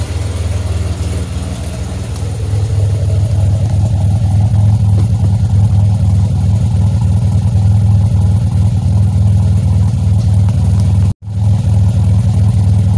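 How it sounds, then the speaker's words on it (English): A supercharged car engine runs loud and close with a deep exhaust rumble, holding a steady throaty drone with slight rises in revs before a brief cutout. "get some exhaust notes."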